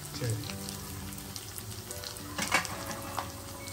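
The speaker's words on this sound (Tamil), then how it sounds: "கருவேப்பிலை கொஞ்சம் போட்டுட்டு நல்லா வறுக்கணும்." Onions, grated coconut, tomatoes and curry leaves fry in a pan for Tamil vatha kulambu, a continuous close sizzle with light stirring scrapes and no talk.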